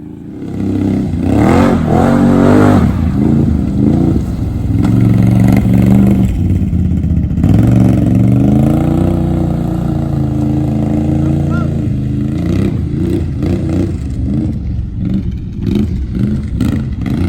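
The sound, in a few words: Razor XP motorbike engine idling and revving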